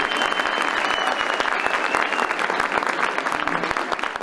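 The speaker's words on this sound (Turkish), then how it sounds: "Kocaman alkış efendim." Sustained applause from an audience at an Istanbul Adyghe language day program, dense and steady throughout with no pauses.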